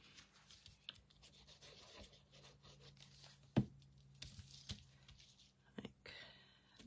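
A paper stencil is pressed down and rubbed onto a book page, giving faint close scratchy rubbing strokes with a few sharper taps, and low speech now and then.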